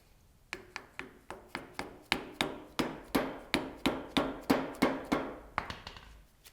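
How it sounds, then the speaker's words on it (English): A grease cap is tapped back onto a trailer wheel hub during a bearing replacement, about twenty quick, evenly paced knocks close by, with no talking. "Just got to put our grease cap back on."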